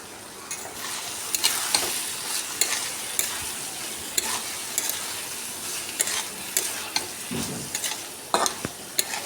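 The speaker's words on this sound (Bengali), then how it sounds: "তো ডিমটা দিয়ে আবারও খুব ভালো করে মশলাটার সঙ্গে নেড়ে চেড়ে মিশিয়ে নেব।" Grated boiled eggs stirred and mixed into masala in a pan, a close frying sizzle broken by frequent scraping and tapping spatula strokes at an uneven rhythm, no speech.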